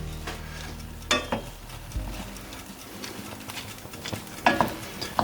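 Spoon mixing Mediterranean yellow rice with pine nuts, cilantro and parsley in a pot, soft close scraping with a few sharper knocks of the spoon against the side.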